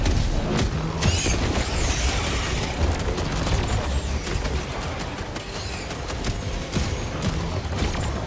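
Grenade blasts in the Helldivers 2 video game, part of a dense, continuous barrage of explosions and gunfire that stays loud and booming throughout, with no clear pause.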